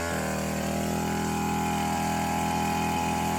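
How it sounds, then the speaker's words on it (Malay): A motorized cutter clearing trees and grass in a plantation runs as a steady, loud, close engine drone, holding a constant buzzing pitch throughout with no pauses. "Ni Saiful sedang memotong pokok-pokok. Rumput-rumput."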